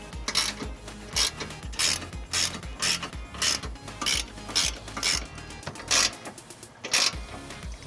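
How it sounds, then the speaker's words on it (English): A 1/2-inch ratchet with a 19mm socket snugs up trailer hitch bolts on a 2007 Jeep Grand Cherokee, giving a steady series of close, sharp ratcheting clicks in repeated bursts, with no talking. "using a 1/2-inch ratchet and a 19mm, we're gonna go ahead and snug these up"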